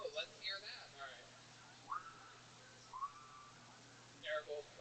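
A person whistles in imitation of a train whistle, a few short rising and sliding tones separated by pauses, faint and close, with a low steady hum underneath.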